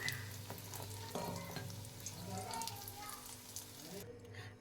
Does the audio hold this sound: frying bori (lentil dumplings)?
yes